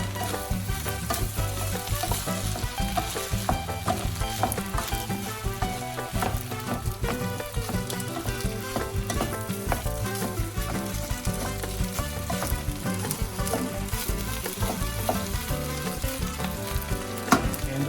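Kimpura fried rice with two eggs being stir-fried in a pan: a loud, continuous sizzle with constant scraping and tossing for a long stretch, close and uninterrupted, with no voices.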